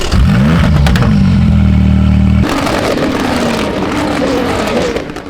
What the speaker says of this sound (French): Pilote, démarrez vos moteurs.